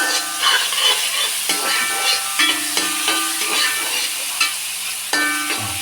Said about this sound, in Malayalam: എണ്ണച്ചട്ടി ചൂടായി. നമുക്ക് ആദ്യം സവാള ഇട്ട് കൊടുക്കാം.